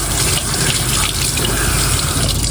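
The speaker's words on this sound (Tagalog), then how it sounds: "Hugasan ko muna yung ating ampalaya." Bitter gourd (ampalaya) is rinsed under a running kitchen tap, a close, continuous rush of water splashing into the sink with no pause and no voices.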